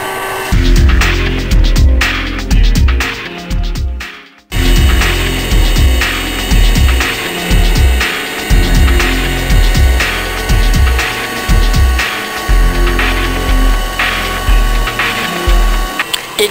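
VC635 Hi Power handheld vacuum cleaner with centrifugal dirt separation, running with a steady loud motor whine and hum, briefly cutting out then resuming, with rhythmic thumping of something being cleaned.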